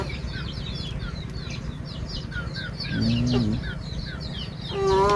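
Chickens cluck and chirp repeatedly at a rural Thai farmstead, a steady scatter of short calls over low background noise, with a louder nearby squawk or vocalization rising briefly in the middle and again at the end.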